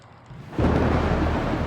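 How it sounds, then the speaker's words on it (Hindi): Heavy thunderstorm with pouring rain and thunder: a quiet start gives way to a sudden loud, dense roar of rain and rumbling that holds steady to the end. "बारिश, बिजली का कड़कना और ओले भी गिरे।"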